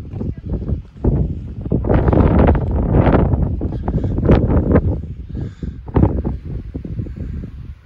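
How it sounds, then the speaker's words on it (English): Strong wind gusting across an open mountainside near a plane crash site, a steady broadband roar with buffeting surges against the microphone. "it's a little less windy here"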